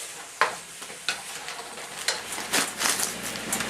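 Thanksgiving stir fry being stirred in a hot pan, faint sizzling under a string of scraping spatula strokes and soft clatter, irregular and close.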